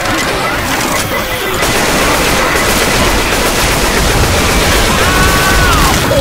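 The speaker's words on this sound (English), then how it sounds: "Throwing a pipe bomb." Continuous dense crashing and rapid gunfire from a pipe bomb and weapons in the video game Left 4 Dead 2, a loud unbroken wall of noise throughout.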